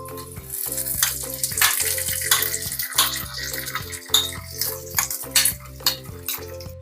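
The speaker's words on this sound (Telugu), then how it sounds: "ఇందాక మనం ఉడకపెట్టుకున్న దుంపల్ని మ్యాష్ చేసుకుని ఫ్రైయింగ్ ప్యాన్లో వేసుకోవాలి" Mashed boiled potatoes frying in a pan for aloo paratha, with a continuous sizzle and wet, rhythmic stirring and scraping strokes, close and fairly loud, with no talking.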